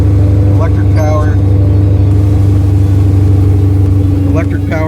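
A Chevrolet C8 Corvette E-Ray with a check engine light fires up and settles into a steady low idle rumble, close and loud, with chimes and warning tones sounding over it.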